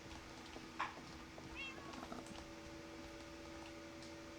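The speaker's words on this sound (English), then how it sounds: "here's the stable with another little creeper guardian barn cat" A barn cat in Minecraft gives one short, clear meow, with steady electronic game tones humming quietly underneath.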